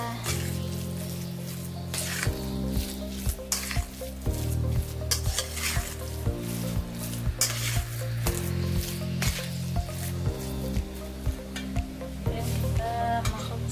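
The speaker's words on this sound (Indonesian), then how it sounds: "Kita aduk dulu." Shrimp wrapped in mustard greens sizzles and crackles as it is stirred in a frying pan, a steady close fry with scraping stirs, under continuous background music and with no talk.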